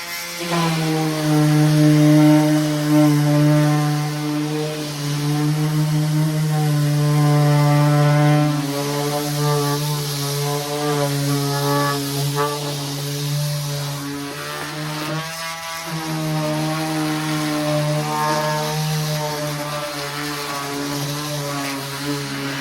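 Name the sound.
power sander sanding wooden deck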